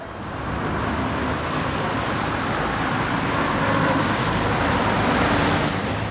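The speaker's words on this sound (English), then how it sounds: "Every day of the week, a noisy flood of traffic pours right through the middle of the district" Heavy traffic flows through a city district, a continuous steady roar of passing vehicles at an even loudness with no breaks.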